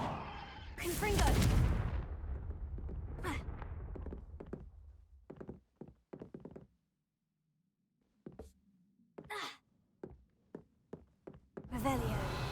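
A fiery Confringo spell blast in Hogwarts Legacy erupts as one loud, heavy burst, then fades into a scatter of sharper, smaller impacts and thuds separated by brief gaps.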